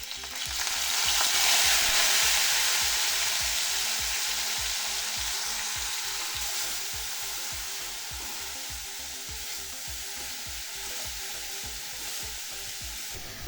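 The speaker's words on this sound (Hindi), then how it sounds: "अब इस प्याज को हम तब तक पकाएंगे जब तक कि इसका कलर गोल्डन नहीं हो जाता है।" Ground onion fries in oil for chole masala, giving a steady loud sizzle across the whole stretch, with regular scraping stirs of a spoon against the pan in a quick even rhythm.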